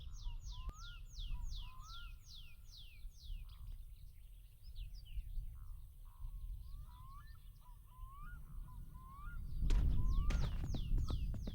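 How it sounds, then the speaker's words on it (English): Seagull-like bird calls from the My Summer Car video game, repeated chirping cries over a low rumbling background that swells louder near the end. "Sound like seagulls."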